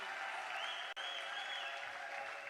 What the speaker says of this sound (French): on peut continuer d'applaudir le couple présidentiel,